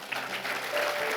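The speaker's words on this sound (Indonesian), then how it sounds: "Berikan tepuk tangan." An audience at a church gathering breaks into soft, steady applause, a brief wash of many hands clapping at moderate distance and fairly quiet.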